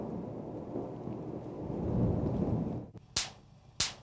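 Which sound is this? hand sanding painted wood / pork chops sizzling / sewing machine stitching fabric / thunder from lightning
thunder from lightning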